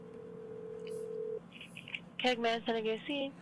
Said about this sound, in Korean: 한번 전화 걸어보도록 하겠습니다